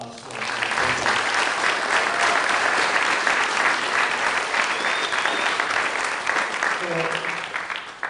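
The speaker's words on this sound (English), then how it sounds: "So a big round of applause for our" Sustained audience applause fills an awards ceremony hall honoring athletic department staff, a dense steady clatter of many hands lasting the whole stretch with a few faint voices mixed in.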